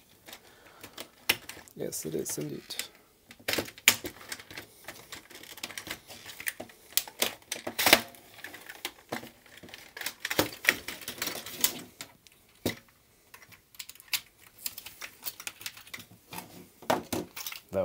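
Plastic clicks, snaps and scattered taps come from the clipped-in keyboard being pried out of an Amiga 600's top case, irregular and close, with brief talk.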